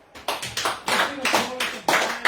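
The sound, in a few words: congregation applauding in church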